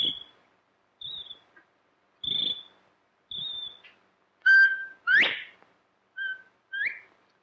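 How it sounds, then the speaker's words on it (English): Someone whistles into a bottle in a short series of clear, bright tones, each brief and separated by pauses, some sliding upward, close and alone with no talking. "You take this bottle and you whistle in it."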